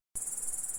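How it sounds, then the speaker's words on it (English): A grasshopper chirps in a steady, high, thin buzz that begins abruptly after a moment of silence and pulses rapidly, quiet and alone. "Grasshopper,"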